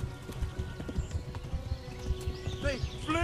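A horse galloping in the video game Kingdom Come: Deliverance, rhythmic hoof clip-clops in quick steady beats close up, with a brief whinny near the end and someone talking over it.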